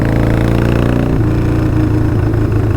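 Motorcycle engine running close by, a steady rough mid-pitched drone with a slight shift in tone partway through.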